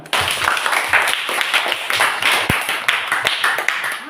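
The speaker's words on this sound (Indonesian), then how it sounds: "Lihat tepuk tangan." Students in a classroom clap together in a loose, uneven burst of handclaps lasting several seconds, fairly loud and close, with a few sharper individual claps and faint voices mixed in.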